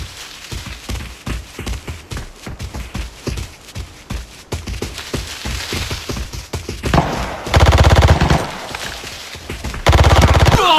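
Rapid automatic gunfire in the shooter game Arena Breakout: dense bursts of loud, close shots rattle throughout, with heavier sustained volleys near the end.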